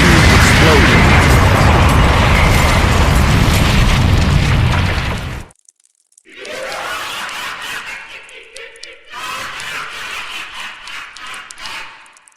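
A huge explosion in an animated fight, as the Elder King and King Tacos fire at each other: a loud, dense roaring blast for about five seconds that cuts off abruptly, followed by quieter crackling debris and rumbling.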